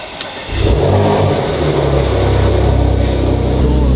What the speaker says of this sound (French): Donc là on va quand même lui faire un petit premier démarrage.